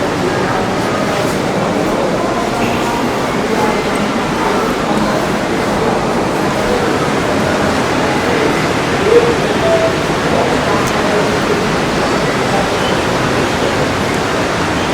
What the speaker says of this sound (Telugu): అందువలన గంగ నెమ్మదిగా ఇక్కడ నుంచి ప్రవహిస్తుంది.